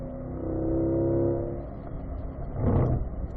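A Corvette engine roars through a sustained rev that eases off, then a brief throttle blip rises again as the driver drops to third gear, heard from inside the moving car.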